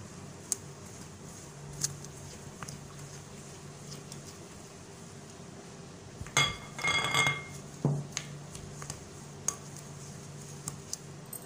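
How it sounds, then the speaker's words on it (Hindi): A spoon stirs chakki whole wheat flour dough for homemade biscuits in a bowl, giving faint scraping with scattered light clinks against the bowl and a short burst of louder clattering midway. "पहले हम चम्मच की मदद से मिक्स करेंगे"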